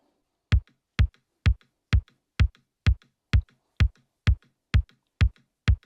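A kick-driven drum beat at 128 BPM, with a dozen evenly spaced, punchy thumps repeating steadily and loud, alone with no talking.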